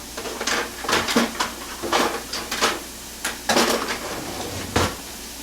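Onions, green peppers and meat drop into a huge pot in several separate, fairly loud thuds and rattles, with short scraping knocks spread across the clip and no talking.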